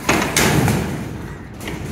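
A door is pushed shut indoors, a couple of firm thumps at the start followed by a short rattle, close and fairly loud.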